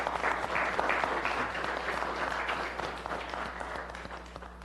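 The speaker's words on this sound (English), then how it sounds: "we'll give you another round of applause" A committee meeting audience applauds firefighters, a brief burst of clapping that swells at the start and gradually thins out over a low steady room hum.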